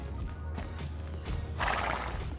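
Horse neighing and hoofbeats while riding in the video game Star Stable, a steady clip-clop of hooves under a whinny that swells loudly near the end, with no talking.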